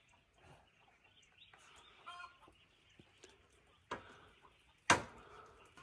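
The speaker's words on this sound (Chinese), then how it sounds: "听到有母鸡产蛋后的声音" A hen clucks outdoors on a rural hillside after laying an egg. Scattered faint clucks build to a few sharp, louder squawks near the end, set against quiet surroundings.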